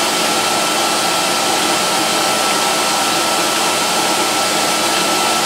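An Electrolux XII vacuum cleaner runs at full power, a loud, steady, close whine and rush of air that holds constant throughout with no talking.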